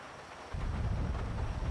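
Thunderstorm weather in GTA V, set by freezing time and switching to thunder, comes on as steady, dense rain and low rumbling that starts abruptly partway through and stays loud to the end, with no talking.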